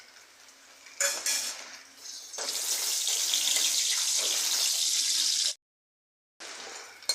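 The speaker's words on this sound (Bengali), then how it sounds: "এই তেলের মধ্যে আমি কটা কাজু ভেজে নিচ্ছি" Cashews fry in hot oil with a hissing sizzle that swells after a few soft kitchen clatters, holds steady for several seconds, cuts out, then returns more quietly.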